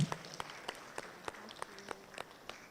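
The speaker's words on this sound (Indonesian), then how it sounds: "tepuk tangan sekali lagi." An audience applauds at a hospital health talk show, thinning, uneven clapping with distinct individual hand claps standing out, fairly quiet and somewhat distant.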